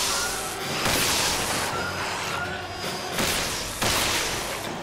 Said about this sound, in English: That pro gun is fucking deadly.